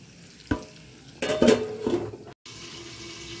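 Potatoes fry in a pan with oil, turmeric and salt for handi mutton curry, giving a soft sizzle with a few sharp stirring and clattering bursts, then a brief dropout and a steady low hiss.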